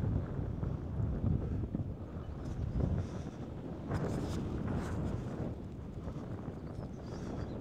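Strong wind at Portland Harbour, UK, buffets and roars across the microphone throughout, a constant low rumble with gusty surges and no voices.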